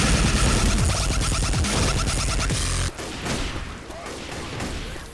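Rapid automatic assault rifle fire in the zombie shooter Left 4 Dead 2 during a rainy level, a dense loud burst of overlapping shots and impacts that cuts off suddenly, leaving quieter scattered clatter.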